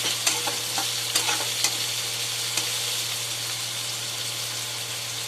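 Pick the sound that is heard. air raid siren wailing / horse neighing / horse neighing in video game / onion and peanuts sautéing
onion and peanuts sautéing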